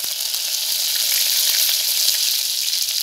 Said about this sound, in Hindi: कड़ी पत्ता मिलाएंगे